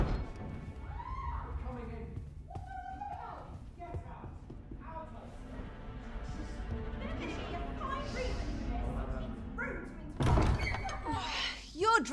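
A door bangs in Dragon's Dogma II, a single loud thud late in the scene after a stretch of character dialogue, with voices talking before and around it.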